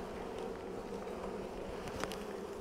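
Bees buzzing around a Flow Hive during a frame inspection, a faint, steady insect drone with one brief louder pass near the end, no talking.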